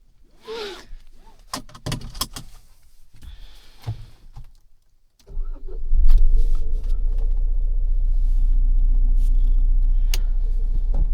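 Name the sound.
Mahindra Thar RWD hardtop manual being driven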